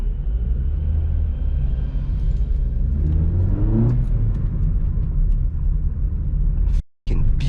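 A Vauxhall Corsa fitted with a performance air filter revs loudly from inside the cabin, with a steady low engine drone rising into a roaring climb mid-way, then briefly cutting out near the end before resuming.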